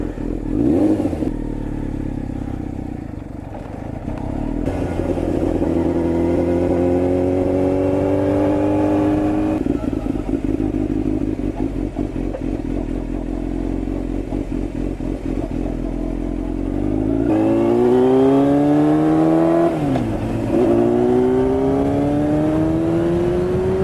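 A sport bike motorcycle engine starts and revs close by, its pitch climbing and falling through repeated throttle blips over a steady idle, loud and unaccompanied by talk.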